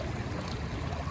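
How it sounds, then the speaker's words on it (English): Creek water bubbling and rushing steadily at Tuttle Creek near Lone Pine in the Alabama Hills, a continuous broadband wash heard close by with no voices. "it's just really nice to hear the bubbling water go by all the time"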